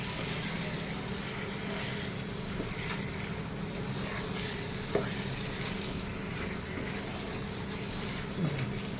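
Chicken curry with chukkakura sorrel sizzles softly in a pan, a steady low crackle and hiss with an occasional faint clink of a utensil.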